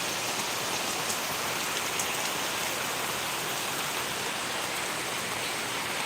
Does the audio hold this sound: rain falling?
yes